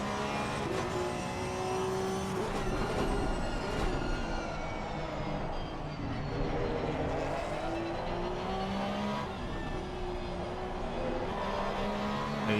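BMW M2 race car engine in a sim racing game at Oulton Park, a loud continuous roar rising and falling through gear changes, with other cars audible alongside throughout.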